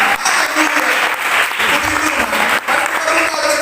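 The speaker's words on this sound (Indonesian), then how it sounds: "Berikan dulu tepuk tangan bagi Tuhan." Church congregation clapping together during a Christian sermon: dense, steady applause fills the room throughout, with a voice faintly underneath.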